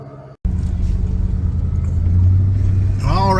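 Inside a moving car on the road, a steady low engine and road rumble runs loud throughout, with a brief dropout near the start and a faint higher tone near the end.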